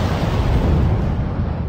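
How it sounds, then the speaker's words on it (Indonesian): Deep rumbling booms and blasts echo through a widow's luxurious mansion, a loud, continuous low roar that fills the space without pause. "Dentuman-dentuman di rumah mewah sang janda semakin sering terdengar."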